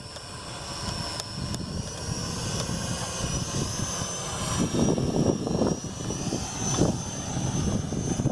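A World Tech Elite Venom Pro GPS drone flies outdoors, its motors giving a continuous buzzing whine at moderate distance, with rising and falling rotor roar and wind-like rumble as it maneuvers and briefly drops close before climbing again.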